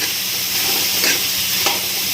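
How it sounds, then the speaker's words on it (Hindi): Loud, close sizzling of vegetables cooking in a hot pan just after tempering, a steady hiss with a few stirring scrapes breaking through. "मैंने अभी सब्जी दिया तड़का, अभी सब्जी बन रही है हमारी"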